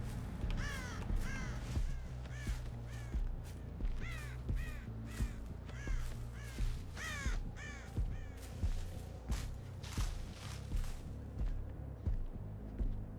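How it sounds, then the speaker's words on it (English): Repeated harsh caws from a crow in a video game ring out in rhythmic bursts over roughly a dozen seconds, moderately loud against a busy background of thuds and rumbling. "A crow."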